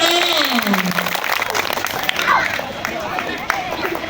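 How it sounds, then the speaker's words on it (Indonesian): Steady applause from a crowd of hands clapping at a school Isra Mi'raj event, with a voice calling out over it and a busy murmur underneath. "Tepuk tangan juga untuk kelas 2"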